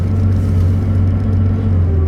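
Old car engine idling while rolling slowly down the road with the window shut, a loud steady low rumble with a smooth, even hum and no talk.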